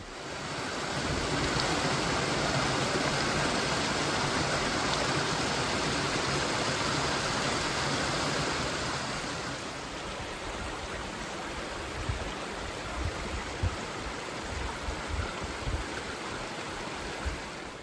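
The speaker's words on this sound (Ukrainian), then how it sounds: "Річка Бистриця стала більша." The Bystrytsia river rushes in the Gorgany mountains of Ukraine, heard on a hiking trail. The rushing water is loud and steady at first, then drops to a quieter, more distant flow with occasional footstep-like knocks.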